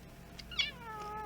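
A house cat gives a brief, faint meow close by, a short rising-and-falling cry over a quiet indoor room hum.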